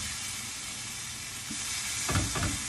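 Ground bison sizzles steadily in a hot pan, a constant frying hiss, with a couple of scraping stirs near the end.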